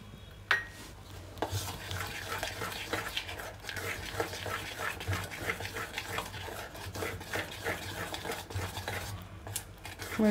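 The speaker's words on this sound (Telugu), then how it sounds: "మీరు ఇట్లా ఎంత బాగా అయితే గుడ్డు ఇవన్నీ ఇలా కలుపుకుంటారో మీకు అంత బాగా స్పాంజ్ లాగా వస్తుంది." Eggs are beaten in a bowl for a stovetop sponge cake batter, giving a continuous busy rhythm of utensil clicks and scraping against the bowl, close and steady for about ten seconds.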